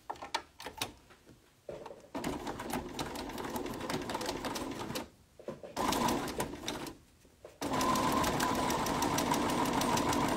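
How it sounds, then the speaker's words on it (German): Sewing machine stitching a quilt block along its long edge, running in steady close bursts separated by short pauses, loud and mechanical with a rapid needle chatter. "Und nähen an der langen Kante entlang."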